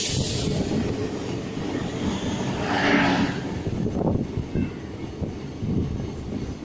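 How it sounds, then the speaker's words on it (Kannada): A Bangarapet–Yeshwantpur DEMU train passes on the opposite track, giving a rumbling rush with clattering wheels and a brief hiss, heard from inside a moving coach. "This opposite trains Bangarpet Yeshwanthpur DEMU."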